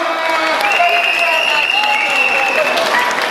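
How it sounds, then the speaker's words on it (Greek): Audience applause for two robotics teams at a team introduction event, a steady dense wash of clapping with some cheering and voices mixed in, sustained and fairly loud throughout. "Λίγο πιο δυνατό χειροκρότημα για τις δύο ομάδες, παρακαλώ."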